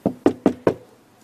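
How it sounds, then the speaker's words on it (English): Four quick, firm knocks on a door in an even rhythm, close and loud, then silence. "Let's knock."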